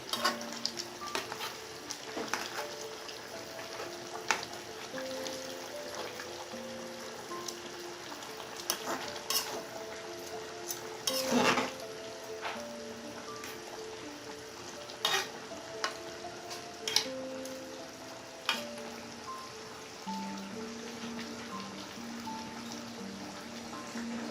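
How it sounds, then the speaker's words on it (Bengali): Small hilsa fish fry in a pan while being turned slowly, a soft steady sizzle under occasional clinks and scrapes of a utensil, with one louder clatter near the middle. "এখন আমি মাছগুলোকে আস্তে আস্তে নেড়ে দিচ্ছি"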